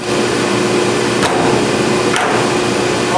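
A hand pipe cutter snaps through 2-inch PVC pipe in a few sharp clicks, set against a loud, steady broadband hiss.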